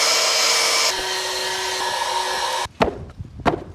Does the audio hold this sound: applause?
no